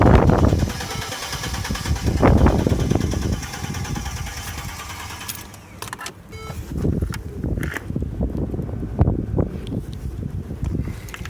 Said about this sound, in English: the starter seems to be turning over fine